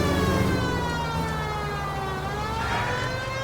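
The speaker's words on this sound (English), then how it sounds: "Don't worry about the sirens." Wailing siren with steady tones that sweep slowly, continuous and moderately loud throughout, with no talking.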